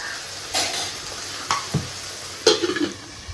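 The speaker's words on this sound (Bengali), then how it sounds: "এই আলুগুলোকে সুন্দর করে ভেজে ওই ডালের মধ্যে দিয়ে দেবো" Small diced potatoes fry in a pan with a soft, steady sizzle, joined by a few sharp clinks and scrapes of stirring, the loudest cluster coming near the end; no voices.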